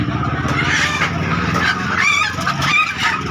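Native chickens and other poultry at a live bird market in Makassar cackle and squawk loudly and continuously up close, several birds calling over one another.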